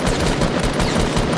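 Gunfire in the video game Fortnite, a dense, continuous roar of rapid shots and blasts, loud and close with no break.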